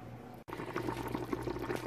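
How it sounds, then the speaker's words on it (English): Hawaiian-style oxtail soup broth simmers in a pot after about an hour and a half, bubbling steadily and close by with a faint underlying hum, briefly cut by a short silent gap. "It's been simmering for now about an hour and a half"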